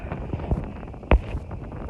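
Steady wind buffeting a microphone with a low rumbling roar and one brief louder gust thump.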